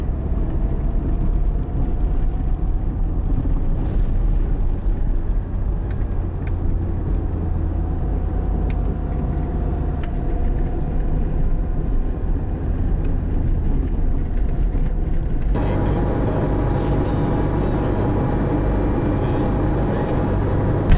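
A heavily loaded Lada Niva drives over sand, its engine and drivetrain giving a steady, loud rumbling drone heard from inside the car, with a slight shift in tone near the end.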